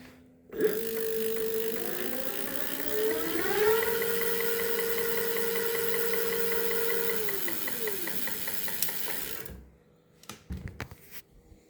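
Electric bike motor powered by a Makita tool battery whines as the throttle is applied, pitch rising in steps to a steady high hum, then winding down and cutting off, followed by faint handling noises.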